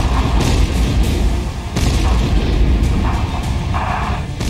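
A sustained, loud rumble of explosions as the army blows up military posts along the Line of Control, dense booming and crackling continuing with no pauses and no talk.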